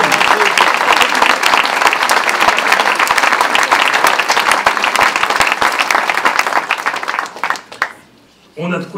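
An audience claps loudly at a political New Year's greetings event in Paris, dense sustained applause close by that thins and fades out near the end, leaving a brief quiet gap.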